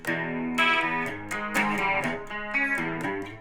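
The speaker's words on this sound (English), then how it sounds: "if I hit this, it gives me that early 90s chorus" Electric guitar chords ring out with a shimmering, warbling early-90s chorus effect from a Boss MS3 pedalboard, several strummed chords rising and falling in a loose rhythm.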